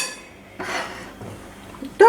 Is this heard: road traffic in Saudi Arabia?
no